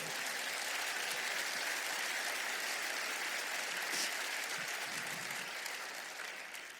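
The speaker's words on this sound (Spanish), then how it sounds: "Denle un aplauso al Señor." Inside a church, the congregation applauds during a sermon with a long, even roar of clapping from many people that fades slightly toward the end, heard at a moderate distance.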